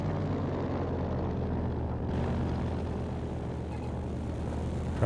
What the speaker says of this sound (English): got the recon plane up